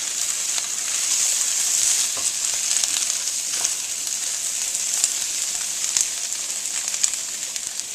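Bok choy greens stir-frying in a hot pan for mee goreng, a steady loud sizzle with bright crackling that runs the whole time, with occasional stirring scrapes and no voices.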